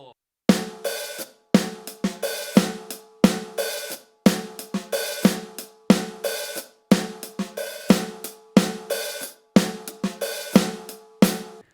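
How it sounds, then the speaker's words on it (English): Drum kit plays a funky hi-hat and snare groove, crisp repeated hits in a steady syncopated pattern with sharp decays and short gaps, close and fairly loud. "Let's see how the hi-hat and snare part match up together."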